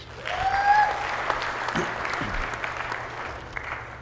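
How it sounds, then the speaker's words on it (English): An audience at a gala panel discussion applauds the panel guests, a burst of many hands clapping that swells early and then holds steady before tapering off, with a few faint voices mixed in. "Give them a round of applause, please."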